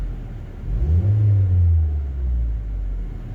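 Ford Focus Mk1 engine blipped on the throttle, rising into a brief rev that holds for a moment then settles back to a low, steady idle rumble, close and fairly loud.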